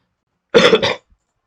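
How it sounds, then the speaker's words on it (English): A single close, loud cough with a short double burst, harsh and throaty, then silence. "I just have a bit cold cough."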